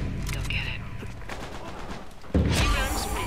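Gunfire in Uncharted 3 multiplayer: a rapid rattle of shots under a muffled voice, then a heavier burst of loud firing near the end.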